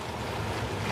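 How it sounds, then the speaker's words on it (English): A dishwasher's main wash pump running while the machine sits out from under a worktop, giving a steady, loud, rushing whoosh of churning water with a low hum, continuous and without pauses. "that noise is the main washing pump running"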